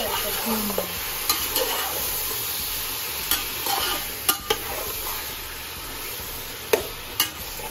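Chicken sizzles in hot oil in a home kitchen pan while a utensil stirs it, a continuous frying hiss broken by scattered scraping and clinking of the spoon against the pan.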